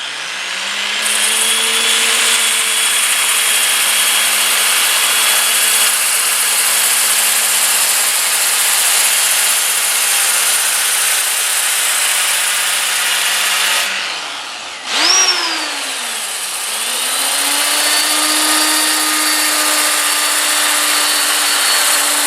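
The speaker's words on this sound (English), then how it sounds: "I usually go about halfway on the throttle, on the trigger of the drill" A steady, loud electric drill whine with sanding friction on a wooden bowl, briefly dropping out midway and then spinning back up to speed.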